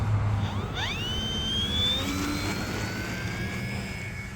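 An E-flite T-28 1.2m RC model airplane takes off from a grass field: its electric motor whines and climbs sharply in pitch, then holds a steady high drone as the plane pulls away.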